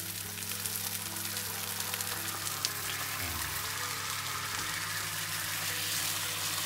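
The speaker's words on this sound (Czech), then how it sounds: "A v této fázi podléváme teriyaki omáčku." Salmon fillets glazed with teriyaki sauce sizzle in a frying pan, a continuous close bubbling crackle with a low steady hum underneath and no talking.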